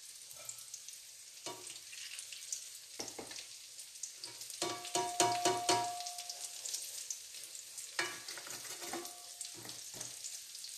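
Eggplant omelette sizzles and crackles in hot oil in a frying pan, a steady close frying hiss with intermittent sharp pops and bursts of spattering.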